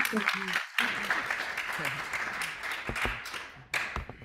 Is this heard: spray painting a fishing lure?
no